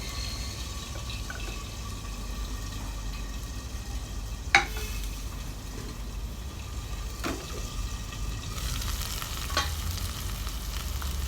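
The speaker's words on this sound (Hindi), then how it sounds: "ये हम कढ़ी में डाल रहे हैं, तड़का लगा रहे हैं हम" Hot tadka tempering poured into kadhi, a Delhi-style yogurt curry with pakoras, giving a steady sizzle and bubbling hiss with a few sharp clinks from a pan or spoon.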